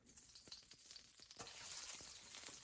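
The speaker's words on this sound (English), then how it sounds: "And once again, get that to sizzle." Garlic cloves and ginger slices sizzle in hot peanut oil in a wok, a steady bright crackle that rises and thickens halfway through, with a few sharp pops and stirring scrapes, close and without talk.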